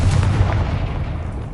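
A loud, deep blast from the Confringo spell in Hogwarts Legacy booms at the start and rolls off into a rumbling decay across the short clip, with no talk.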